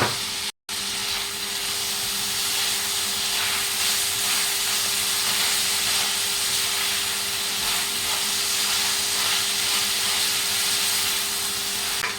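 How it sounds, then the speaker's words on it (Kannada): Tomatoes frying in a pan for aloo palak give a steady, loud hiss and sizzle that runs unbroken for the whole stretch, apart from one brief dropout near the start. "ಸೊ ಇದು ಫ್ರೈ ಆಗ್ತಿದ್ದ ಹಾಗೆ ಇದಕ್ಕೆ ಟೊಮೆಟೊ ಕೂಡ ಹಾಕೊಳ್ತಾ ಇದ್ದೀನಿ."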